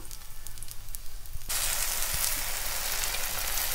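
An onion uttapam frying in a pan just after being flipped, with quiet pan noise giving way abruptly to a loud, steady sizzle that continues to the end.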